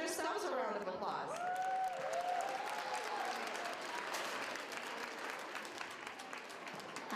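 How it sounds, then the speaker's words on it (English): A school audience at an elementary school Chinese Lunar New Year celebration applauds, dense sustained clapping filling the room with some crowd noise and a few cheers. "give yourselves a round of applause"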